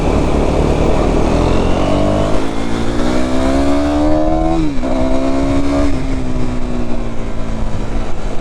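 A KTM Duke 390 motorcycle engine revs and accelerates during a solo ride, its pitch climbing steadily, dipping once with a gear change, then rising again. The sound is loud and continuous over steady wind and road noise.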